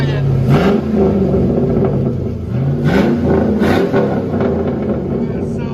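A 2005 Chevy Silverado with a 5.3L V8 and straight pipe exhaust revs in loud, deep, rumbling swells that rise and fall several times, heard close with a steady throaty roar between blips.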